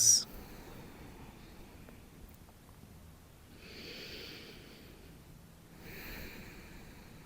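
Soft breaths during yoga practice, two slow airy exhalations spaced a couple of seconds apart, faint and close in a quiet room, after a brief sharp sniff at the start.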